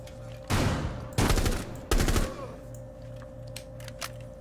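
Gunfire in Rainbow Six Siege: three loud, close bursts of rapid shots about half a second apart, followed by a low hum and faint background noise.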